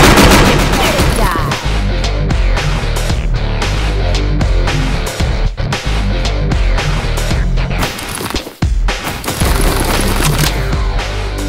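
Enemy sniper fire in the crime game Gangland, a dense barrage of loud gunshots and booms layered over game music, sustained throughout with brief dips.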